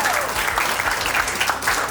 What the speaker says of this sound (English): Big round of applause to Josh